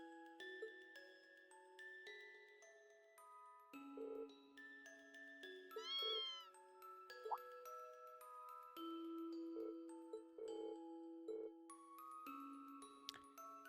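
Kittens meow in the video game Trails of Cold Steel, with a few short mews rising over soft chiming game music and no talking.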